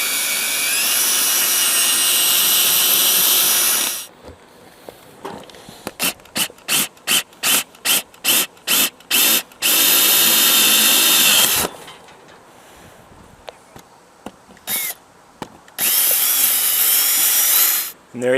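A power drill cuts a 1.25 inch hole through an RV roof, starting with a long steady whine, then a run of rapid on-off trigger bursts, followed by more sustained drilling, loud and close.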